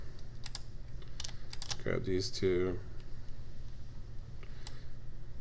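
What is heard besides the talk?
computer mouse and keyboard clicks while selecting vertices in Maya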